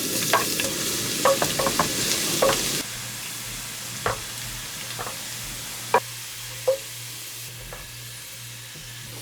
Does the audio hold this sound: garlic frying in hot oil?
yes